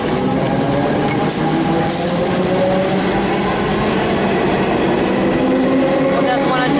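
A Melbourne suburban train pulls out of Clayton station, its loud, steady rumble and rail clatter filling the platform continuously from start to finish.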